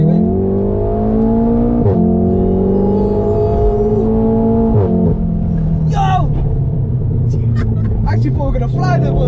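2015 Volkswagen Golf R MK7 with a DSG gearbox accelerating hard from inside the cabin, its engine droning and climbing through gears with abrupt shift interruptions, brief sharp pops, while occupants talk and exclaim over it.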